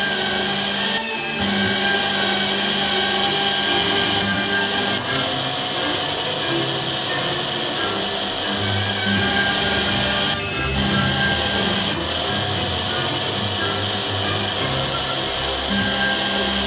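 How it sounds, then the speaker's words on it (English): Steady machine whir of a DM-200 drilling machine boring holes in eyeglass lenses, a continuous motor drone with brief dips and restarts, close and fairly loud with no talking. "Press the electric motor button. Press the lever to start drilling."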